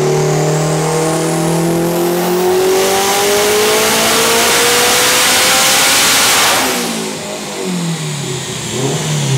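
Turbocharged car engine revving hard under boost, a loud sustained rising engine note that climbs steadily for several seconds, then drops off and idles back up, close and alone with no talk.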